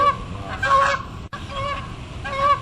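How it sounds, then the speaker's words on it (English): Several geese honk and squawk at each other outdoors in a series of harsh, nasal calls, moderately close, with a brief break midway and then more honking. "They always squawk at each other pretty good."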